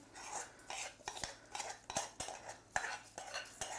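Millet grains rattling and scraping into a metal pot, with several sharp clinks of a utensil against the rim in an irregular rhythm.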